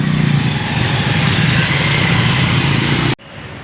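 Motorcycle engines idle and rumble amid street traffic in a Colombian city, a loud, steady low drone with a faint higher whine that cuts off abruptly near the end, followed by quieter background noise.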